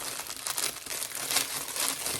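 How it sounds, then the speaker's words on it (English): Sleep mask packaging crinkles and rustles steadily as it is pulled open close by, a dense, continuous crackle of plastic with no talking. "you can't hear me with all the rustling"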